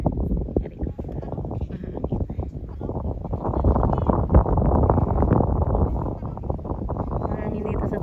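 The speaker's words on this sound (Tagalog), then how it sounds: "Mahangin dito sa taas guys." Wind gusting across an open hilltop, a steady low rumble buffeting the microphone throughout, with a person speaking over it.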